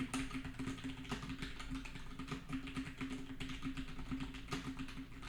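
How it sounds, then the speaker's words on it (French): Steady rapid typing on a loud mechanical keyboard with an aluminium chassis, close up, with clacky keystrokes in an uneven rhythm and no voices. "un clavier mécanique avec un châssis en aluminium particulièrement bruyant"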